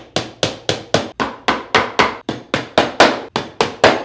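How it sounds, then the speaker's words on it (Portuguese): Nails being hammered into wood fixed on a table: about fourteen sharp, evenly spaced hammer blows close by, each a loud crack with a short decay, at a steady rhythm of roughly three strikes per second. "Essa parte pra cá que fica na mesa eu vou pregar, tá? Com 2, 3 pregos"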